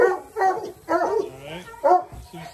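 A coonhound barks at a kennel, with a few loud, close, drawn-out barks and yips in uneven succession.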